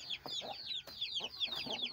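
Chickens cluck softly in a pen, with repeated short clucks and squawks close by at a quiet, steady level.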